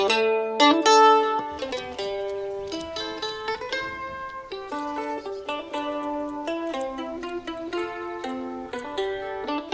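A mandolin plays a bard tune in place of a lute, with steady plucked notes and quick tremolo-like runs forming a bright, twangy folk melody that carries on without pause.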